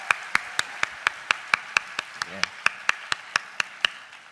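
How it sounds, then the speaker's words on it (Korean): Clapping at a 2013 Korean opening worship service, heard as a slow, regular series of about eighteen sharp, distinct claps, evenly spaced and close, with faint room murmur underneath. "열렬히 박수합니다."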